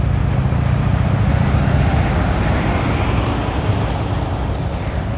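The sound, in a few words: lead pace car driving ahead of marathon runners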